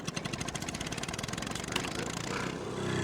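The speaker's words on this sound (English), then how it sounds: "let's go ahead and jump on our tractor. Fire this baby up." A tractor engine in Farming Simulator 22 chugs steadily at idle with a rhythmic low throb that stays loud and constant, with no talking.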